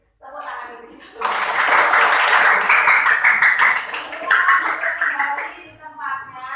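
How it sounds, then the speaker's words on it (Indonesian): A group of students in a classroom claps hands together, a close, sustained burst of clapping with voices talking and calling out over it. "Tepuk tangan dulu kita semua"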